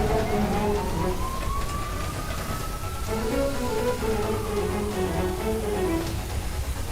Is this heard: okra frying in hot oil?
no